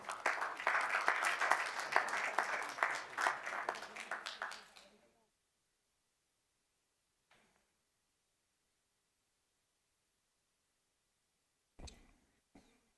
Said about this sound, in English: So please help me applaud these great leaders